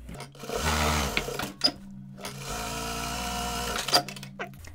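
Domestic sewing machine stitching a fabric face mask without elastic, running in two sustained bursts separated by brief pauses and a few clicks, steady motor whir up close.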